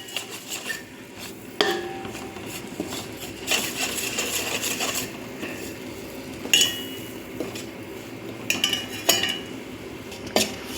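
Flour stirred into melted butter in a pan for white sauce, giving repeated metallic clinks and scrapes of a spoon against cookware over a low, steady background.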